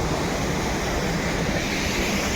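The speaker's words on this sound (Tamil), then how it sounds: "அந்த வாட்டர் ஃபால்ஸ் கிட்டே வந்துட்டோம்." A mountain waterfall near Manali, heard from close by, makes a loud, steady roar of rushing water, a broad unbroken wash of noise with no voices.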